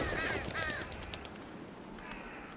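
Crows cawing in The Walking Dead video game, a few harsh rasping calls up front and a fainter cry later over a steady outdoor ambience.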